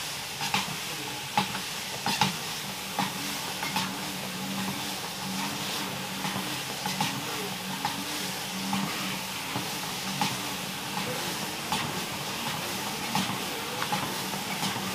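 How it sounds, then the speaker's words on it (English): An EgoFit Walker Plus under-desk treadmill runs with a steady whirring hiss and a rhythmic rubbing from the belt. Faint, light ticks recur in an even pattern. "Sounds like there might be a little bit of a rub as far as this belt goes."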